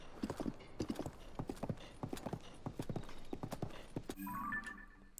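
Horse hooves in Zelda: Tears of the Kingdom beat a steady, close clip-clop rhythm for several seconds, then give way to a brief tonal game sound at the end.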